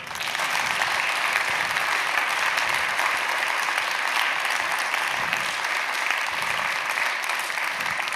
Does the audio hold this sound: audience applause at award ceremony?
yes